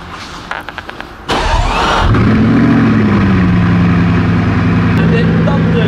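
A few soft clicks, then a Bugatti Chiron engine cranks and roars to life loudly and close, settling into a deep, steady idle.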